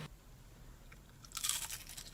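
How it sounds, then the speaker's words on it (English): Quiet, close-up chewing with a brief burst of crisp crunches from biting into fried chicken, then it fades back to soft mouth sounds. "Oh, you hear that? Crunchy."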